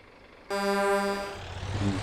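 Horn honked on a vehicle in the MotorTown driving game: one sustained, loud, bright blast starting abruptly after a half-second of quiet, holding for about a second, then fading as a low engine rumble comes in.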